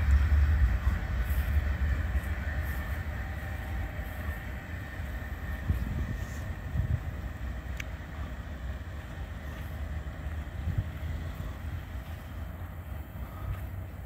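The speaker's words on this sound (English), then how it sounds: "Me and Bella Rose out watching the train." Southbound freight train of auto racks rolls past steadily with a low rumbling drone and faint metallic squeals, heard outdoors with some wind buffeting, gradually easing over the span.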